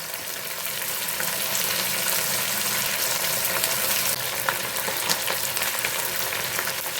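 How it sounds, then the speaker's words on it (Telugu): Onions and green chillies fry in hot oil for a dry fish and tomato curry, a steady dense sizzle with light stirring scrapes throughout, close and continuous, no voices. "ఇప్పుడు ఉల్లిపాయలు వేసేద్దాం పచ్చిమిరపకాయలు ఉల్లిపాయలు వేసేస్తున్నాం"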